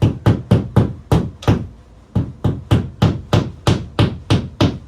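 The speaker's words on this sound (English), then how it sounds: "put the hammer, and just hammer it in" A hammer drives a fitting into a hole for a Plusinno fishing rod holder wall mount. It gives a steady series of about fifteen sharp, close knocks with a brief pause in the middle.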